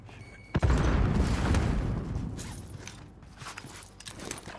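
A grenade in Call of Duty Warzone Rebirth goes off with a sharp, heavy burst, followed by a rumbling, crackling decay that fades over a few seconds.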